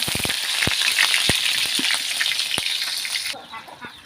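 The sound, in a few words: onions frying in oil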